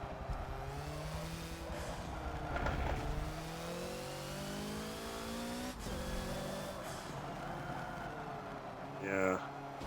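Hoonigan Focus race car in Forza at Road Atlanta, engine revving up and down through gear changes with a brief tire squeal, heard under someone talking.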